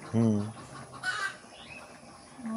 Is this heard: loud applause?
no